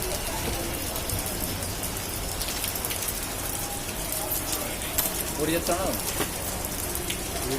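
Steady morning rain pours onto a street in the 7 Roads area of Kadapa, a dense, even patter of drops on the surface, with occasional faint voices nearby.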